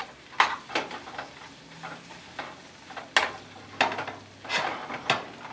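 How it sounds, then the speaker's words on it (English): Fresh shrimp sizzle in a pan of seasoning as they are sauteed and stirred, with soft frying hiss and periodic scrapes and clinks of a utensil against the pan. "These are fresh shrimp, and they'll be sauteed in a seasoning"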